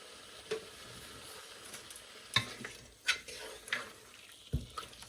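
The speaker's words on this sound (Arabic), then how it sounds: "بدنا نحط الدجاج بالطنجرة ونبلش نقليه" Chicken pieces go into a pot to fry, giving a faint, low sizzle with scattered clinks and stirring knocks from a utensil against the pot.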